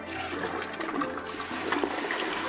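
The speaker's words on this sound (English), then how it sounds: "Flush the toilet." A household toilet flushes during fill valve servicing with the tank lid removed, a steady close rush of draining water that runs without a break and swells slightly toward the end.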